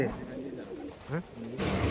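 A Rajshahi Giribaz pigeon gives a brief soft coo at a pigeon sale, amid background chatter and murmuring voices.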